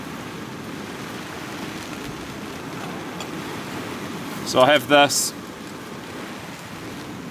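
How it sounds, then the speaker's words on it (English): Driving rain and wind at a campsite on a stormy night, heard from under a tarp: constant loud hissing wash of rain throughout, with someone speaking briefly over it. "But you hear that driving rain and wind."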